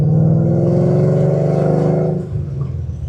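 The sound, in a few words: Ford Coyote V8 swapped car revving, long tubes, MagnaFlow mufflers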